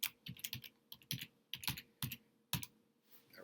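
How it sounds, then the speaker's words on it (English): Password keystrokes tapped on a computer keyboard, around a dozen crisp, close clicks in irregular bursts with short pauses, ending in quiet. "Type in your password."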